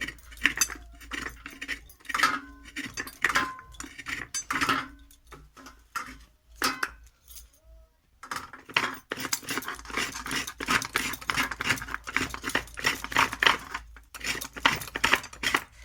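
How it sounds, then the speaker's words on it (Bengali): Fresh coconut is shredded by hand on a coconut scraper to make a sweet filling for lobongo lotika, giving close, steady rasping strokes with a brief pause partway through. No one talks. "আমি এখানে নারকেলের কুড়ুনি দিয়ে নারকেলগুলো কুড়ে নিচ্ছি"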